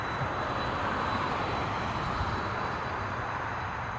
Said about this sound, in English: This guy is going to Dallas. It's a Boeing 737-333ER.